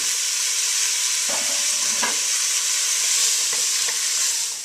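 Beef added to onions and garlic frying in a pan for Tibetan beef with radish, giving a loud, steady hiss of sizzling with a few soft stirring knocks, close up and without talking.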